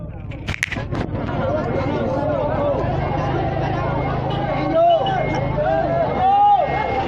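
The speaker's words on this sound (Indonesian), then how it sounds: "masih terdengar teriakan dari warga" A crowd of residents shouts at suspected child abductors beside their cars, a loud and continuous babble of many voices with sharp bangs near the start and several louder shouts later.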